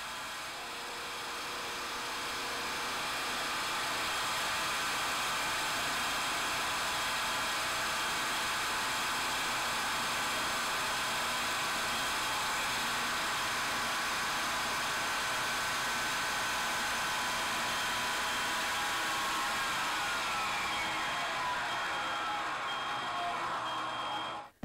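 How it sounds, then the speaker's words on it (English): An electric motor runs under full load on a dynamometer test stand, giving a loud, steady whirring roar that holds constant for the whole stretch before cutting off abruptly at the end. "You can see on the screen as the motor approaches its full performance load."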